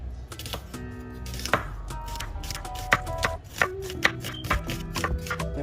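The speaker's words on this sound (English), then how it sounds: "So I like to cut the onions in half and slice them along the lines" A knife slices through halved onions on a cutting board, a string of crisp, uneven chops that run close and clear with no talk over them.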